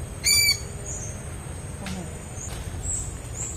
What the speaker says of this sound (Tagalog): Kasi nga bawat sit up natin mga idol, humuhuni si Kuratsa